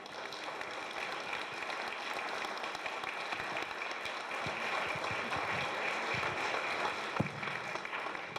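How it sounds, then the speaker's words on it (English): A town meeting audience in Warren, Vermont, applauds in a steady, dense wash of clapping that swells slightly toward the end, with a few louder individual claps near the close. "maybe we end the day with a round of applause for us"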